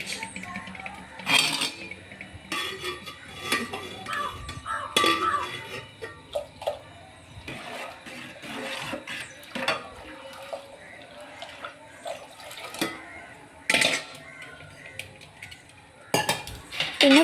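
Dishes, pots and pans being washed by hand, with scattered clinks of cutlery and metal, clatters of pans and intermittent running water, the sharp knocks coming irregularly at close range.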